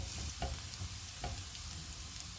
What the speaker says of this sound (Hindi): ऑयल गर्म हो गया, इसमें चॉप किया हुआ 1 टेबलस्पून अदरक और लहसुन डालेंगे